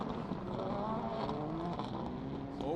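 Rallycross race cars at Mondello Park roar past in a continuous loud engine drone, revs rising and falling as the pack comes through, with a commentator talking faintly beneath.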